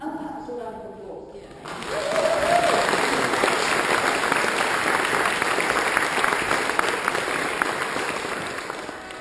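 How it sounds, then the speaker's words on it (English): A wedding crowd breaks into applause for the newly married couple just after they are declared husband and wife, the clapping swelling in loudly and holding as a sustained, dense wash before easing off near the end. "And perhaps a round of applause."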